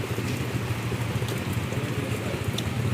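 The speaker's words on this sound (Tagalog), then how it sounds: "Grabe ang ulan naman, uy." Heavy rain pouring down steadily at a resort, a dense, continuous hiss of drops hitting surfaces nearby, loud and unbroken with no voices.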